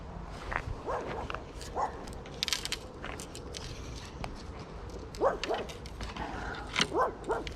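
A tiny dog barks and yaps repeatedly at a distance on a Thames riverbank during stick float fishing, with sharp irregular barks spread across a steady outdoor background.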